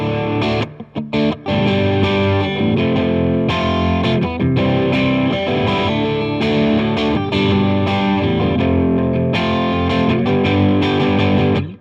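A heavily overdriven electric guitar plays continuously, loud and saturated with amp distortion, chords ringing thick and sustained throughout.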